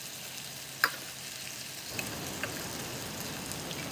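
Paneer pieces frying in hot oil in a pan, a soft continuous sizzle close by with a sharp clink near the start and a few faint taps.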